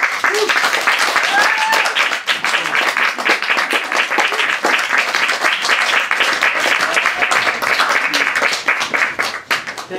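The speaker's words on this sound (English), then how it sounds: "Let's give the poets another round of applause." Sustained applause from an audience at a poetry reading, dense steady clapping filling the whole stretch with some cheering or voices mixed in underneath.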